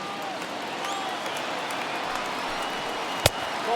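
Stadium crowd of about 22,000 at a Pittsburgh Pirates baseball game in MLB The Show 21, a steady, fairly loud roar of cheering and applause that holds throughout, broken near the end by one sharp crack.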